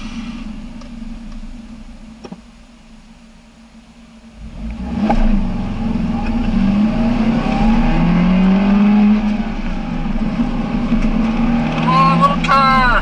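A small car engine rises from a quiet roll into a steady, loud drone as the car accelerates down the road, with occasional whistling tones and speech over it.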